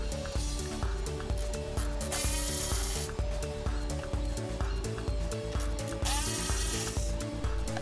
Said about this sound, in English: Use a 13mm socket and ratchet to remove the 4 bolts securing the sway bar to the rear subframe.